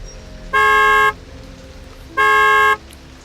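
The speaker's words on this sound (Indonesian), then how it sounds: "Dikelaksonin kayak begitu, kaget ya kan, dilihat dari spion tengah" A car horn honks twice from a vehicle behind on a rainy road, each blast about half a second long, loud and close, with a quiet engine hum in between.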